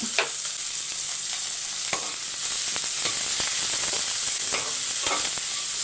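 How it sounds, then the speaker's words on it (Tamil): Onions sautéing in a pan, a loud continuous sizzle with a bright hiss throughout, broken by scraping stirs and clicks of a spoon against the pan, no talk. "வெங்காயம் வந்து ரொம்ப வதங்கணும்னு அவசியம் கிடையாது பாதி வதங்கினா போதும்"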